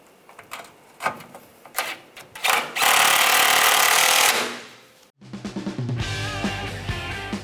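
A power tool drives the lower bolts home on a 1996-2002 Toyota 4Runner air deflector: a few sharp metallic knocks, then a loud sustained buzzing whir, a brief pause and a second rattling run, close and loud.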